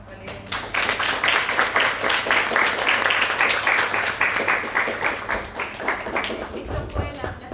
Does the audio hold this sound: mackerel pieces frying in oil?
no